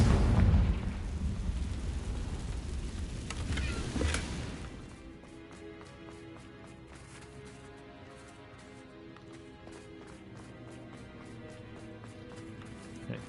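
Confringo fire spell explosion in Hogwarts Legacy: a deep rumbling blast with a sharp crackling burst around four seconds, then fading into quieter ambient game music and soft ticks, no talking.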